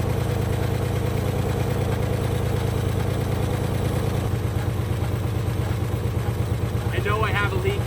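Ford Galaxie 500 engine running roughly at idle, a loud steady pulsing rumble close by, with a faint voice near the end.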